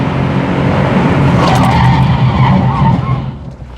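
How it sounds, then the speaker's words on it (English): A Subaru Impreza WRX STI with over-inflated front tires braking hard on a road, giving a loud sustained tire squeal and skid under engine and road noise that fades at the end. "I'll demonstrate the brakes too."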